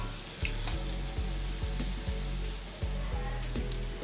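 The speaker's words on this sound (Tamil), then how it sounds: "ஸோ இந்த டைமில் நம்ம பாயில் பண்ணி வச்சுருக்க அந்த ரைஸை ஆட் பண்ணிக்கலாம்." Boiled rice tipped into spiced masala frying in oil in a pan for chicken fried rice, giving a steady close sizzle with soft rhythmic scraping and stirring thumps about every half second.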